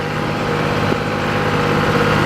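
A tractor engine runs steadily at a constant idle-like drone while pulling a new 7-foot Armstrong disc through a field row, loud and continuous with no breaks.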